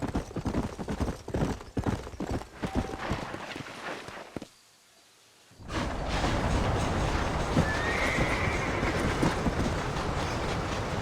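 Horses in the Western video game Red Dead Redemption clop along in a steady hoofbeat rhythm under rumbling movement noise, then a brief silence falls, followed by a dense, louder rush of galloping and rattling that continues to the end.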